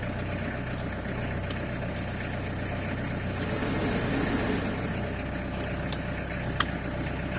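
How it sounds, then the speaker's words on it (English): A camper van engine idles at a steady, low rumble, close and continuous throughout, with faint clicks and small bumps on top and no talking. "Let it idle a minute"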